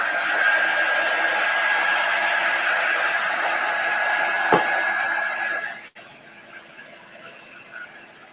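A dryer blows on black chalk paste on a Dollar Tree plaque pumpkin, a loud, steady whooshing rush with a thin whine on top that cuts off abruptly near the end, leaving a quieter hiss.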